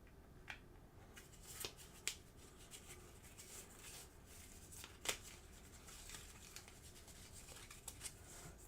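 Quiet, brisk shuffling of playing cards in the video game Stars of Akarios, with a few sharp riffle snaps and ticks, alone and close, against a soft hiss.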